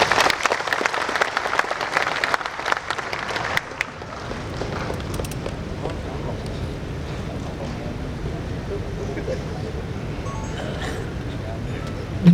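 Applause from an audience at an Indonesian government event where the Jakarta deputy governor has just finished his address, loud and dense for several seconds, then fading into a murmuring room.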